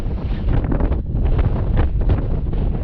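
Strong, steady wind roars into the microphone on Gap Mountain, a dense, churning rumble with gusting swells and a brief lull near the one-second mark, with no voices.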